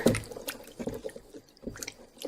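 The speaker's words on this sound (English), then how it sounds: "we've got 40 grams of sourdough starter there. Mix that in. Get it all dispersed throughout the water" Sourdough starter is stirred into water in a bowl, giving irregular wet sloshes and drips in short bursts, fairly close and quiet, with no talk.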